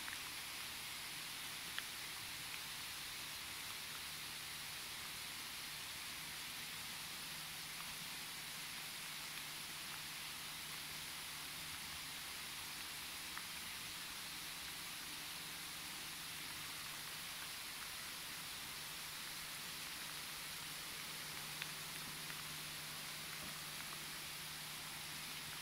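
Rain falling steadily in woods outdoors, a soft, even hiss of drops on leaves and ground with a few faint nearby taps, no talking.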